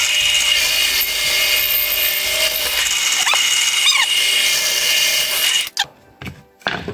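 A drill bores steadily through material for several seconds with a continuous high grinding whine, then stops and gives a couple of short final bursts.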